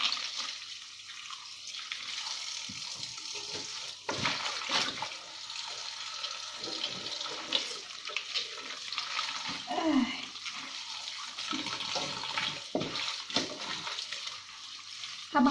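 Water running and splashing close by as vegetables are rinsed and squeezed by hand, a steady gushing stream with irregular sloshes and handling noises.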